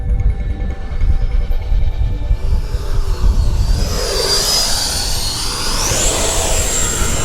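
A scale RC F-16 model jet whines overhead while landing in gusty wind at quarter to half throttle, a rising turbine hiss sweeping higher as it passes, over a steady low rumble of wind.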